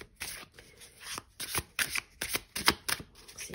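Tarot cards are shuffled and drawn by hand in a series of quick riffling, slapping bursts, close and fairly quiet, with no talking.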